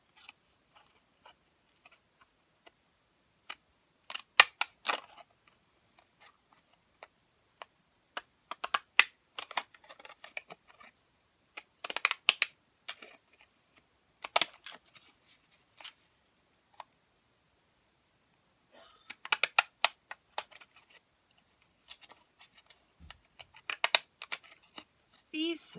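Crisp snips from decorative-edge scissors cut through paper in short irregular bursts, close and dry, with quiet pauses between the cuts.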